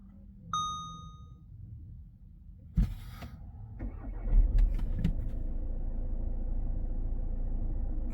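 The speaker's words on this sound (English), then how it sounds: "We'll cycle the ignition and hope that some of these messages have disappeared." Dashboard warning chimes ring in a 2017 Volkswagen Tiguan with flood damage as the ignition is cycled: a single clear ding, then clicks and a whirring start-up leading into a steady low engine hum.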